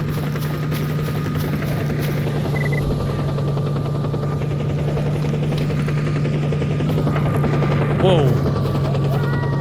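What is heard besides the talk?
helicopters flying, from video game Stalker Anthology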